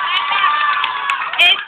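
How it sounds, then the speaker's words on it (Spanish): Cheering and clapping from a crowd of children and adults at a school Christmas posada, a steady bright wash of noise that swells near the end. "¡Fuerte el aplauso!"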